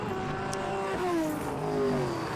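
A historic Triumph GT6 racing car and a lapping car run past on a circuit, engines droning and revving with shifting pitch, the note sliding down as they pass at close to moderate range, no talk.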